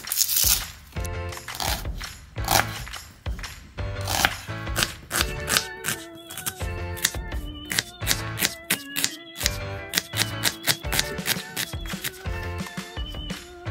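A kitchen knife chops an onion on a cutting board for homestyle samosa. Quick, steady, close chops in a brisk rhythm run throughout, with brief pauses between runs.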